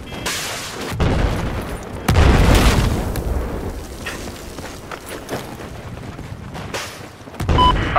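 A C4 charge detonates in Battlefield 4 with loud booming blasts, followed by rumbling debris and scattered distant gunfire. Further sharp bursts come through at intervals.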